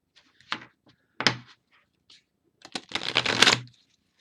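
Tantric Dakini oracle cards, a deck longer than standard tarot, shuffled by hand: two brief riffling bursts followed by a longer, louder run of rapid card flutter, close and clear with no talking.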